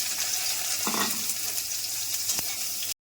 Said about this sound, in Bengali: সয়াবিনগুলো ভেজে নিচ্ছি